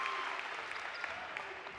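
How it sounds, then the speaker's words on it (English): Basketball crowd at an NCAA Division III first-round game applauds and cheers steadily, a dense, continuous wash of clapping filling the arena without a break. "Listen to that crowd. What an atmosphere here tonight."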